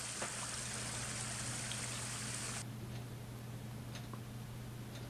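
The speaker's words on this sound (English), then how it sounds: "At the minute, it's just a nice, quiet, babbling brook." A quiet babbling brook at Edzell in Angus, Scotland, a faint, steady trickle of water running on without pause beneath a low constant hum, with an occasional soft tick.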